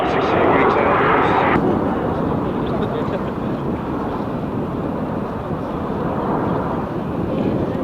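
A PZL TS-11 Iskra jet passes at the 1995 Fairford airshow, a loud continuous jet roar that eases slightly after the opening seconds, with faint voices in the crowd beneath.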